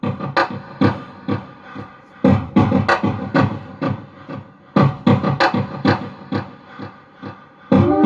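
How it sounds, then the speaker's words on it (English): A simple beat loop runs with a delay effect, its hits smearing into echoing, overlapping repeats that make a busy, irregular percussive pattern, loud and up close with no talking. "when I put the delay on, it sounds like this."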